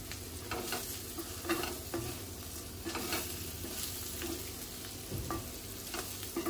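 Vermicelli sautés in a pan, a steady close sizzle with repeated stirring scrapes of a spatula at an even rhythm and no talk.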